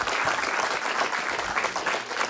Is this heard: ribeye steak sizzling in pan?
no